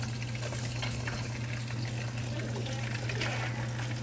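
Eggs fry in a pan with a continuous, fairly loud sizzle and crackle, and a low steady hum sits underneath for the full four seconds. No voices are heard.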